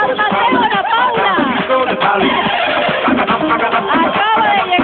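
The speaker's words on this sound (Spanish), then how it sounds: "¡Se soltaron los caballos" Horses neigh and whinny on a Ecuadorian TV competition show set, loud repeated calls mixed with crowd chatter and a presenter talking excitedly over them throughout.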